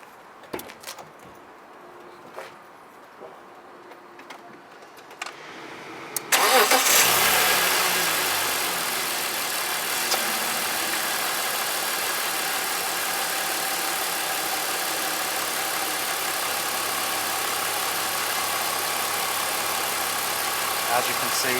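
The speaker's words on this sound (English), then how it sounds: "we're going to start the car back up." A car engine starts up during an air-conditioning refrigerant recharge: quiet clicks and handling noises first, then the engine cranks and catches and settles into a steady, loud idle that runs to the end.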